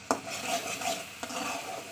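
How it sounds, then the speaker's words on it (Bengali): Spice paste being stirred and fried in oil in a pan, a soft continuous sizzle broken by a couple of sharp spoon-on-pan knocks, close and fairly quiet. "মশলাটা সুন্দর করে কষাতে হবে।"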